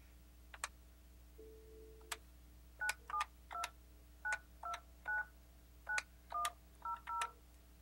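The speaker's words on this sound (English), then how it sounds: "from here, we dial the number that we'd like to reach" Number dialed on an Alcatel-Lucent 8068s desk phone on an OXO Connect system: a short tone and a few clicks, then a quick series of about a dozen clear DTMF keypad beeps in a steady rhythm over low hum.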